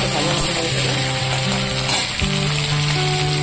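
Spices and fish sizzle and fry in hot oil in a pan as tempering for a cabbage dish, a steady loud crackling hiss throughout with a brief stirring clatter midway.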